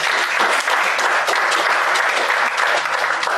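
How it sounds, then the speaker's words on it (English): Audience applause following a speech at a talk on Nigerian labour force statistics, a steady, full wash of many hands clapping throughout, fairly close and without pause. "Please, another fantastic round of applause for that."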